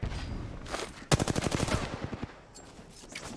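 Gunfire in the video game Apex Legends: a rapid automatic burst of about a dozen sharp shots, loud and close, followed by quieter game ambience.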